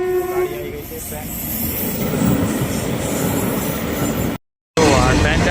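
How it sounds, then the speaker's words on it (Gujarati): A train rolls past a closed level crossing at close range, a loud sustained rumble and clatter of wagons with a horn-like tone early on, continuing through the whole stretch with a brief dropout near the end. "તો આ ટ્રેન જાય છે"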